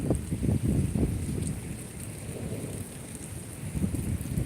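A thunderstorm brings steady heavy rain, with low rumbling thunder swelling near the start and again at the end, the wash of rain continuous throughout.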